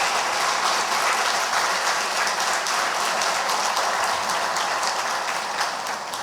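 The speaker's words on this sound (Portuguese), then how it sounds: "Você pode aplaudir o Senhor, querido?" Church congregation applauding during a sermon, a loud, dense, continuous wash of many hands clapping that stays level from start to finish.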